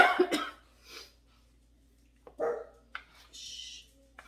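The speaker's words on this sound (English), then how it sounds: "The dogs hear our company coming in." Dogs bark at company arriving at a home, a few sharp, close barks spaced apart with quiet gaps between them.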